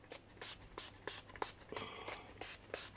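Short bursts from a can of colour spray misting onto seam binding for small fabric flowers, about eight quick close hissing puffs in an uneven rhythm, with no talking.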